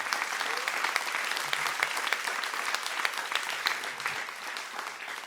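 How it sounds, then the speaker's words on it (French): Sustained applause from an audience, dense steady clapping throughout that eases slightly toward the end. "je voudrais qu'on applaudisse, s'il vous plaît, Gilles Sixou, Sylvain Thévenot également."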